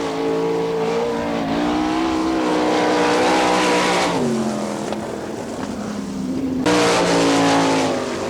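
A race car laps a dirt speedway during an NCRA All Stars event in Wichita, Kansas, its engine a loud, sustained roar that rises and falls in pitch as it accelerates and lifts through the turns, with no voices over it.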